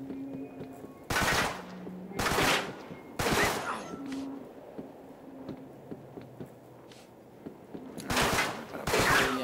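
Gunfire in the Uncharted 3 video game: several loud, sharp bursts of shots spaced irregularly, with quieter game sounds and faint tones between them.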